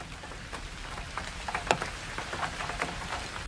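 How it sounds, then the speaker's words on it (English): Steady rain patters on surfaces nearby, with scattered louder drops tapping over a soft hiss. "It's just started raining."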